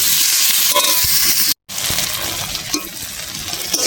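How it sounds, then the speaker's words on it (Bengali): Prawns frying in a pan of hot oil, a dense, close sizzle with scraping stir strokes and a few clinks, interrupted once by a short silent gap before resuming. "ভালো করে ভেজে নেব, তারপর মশলা দেবো"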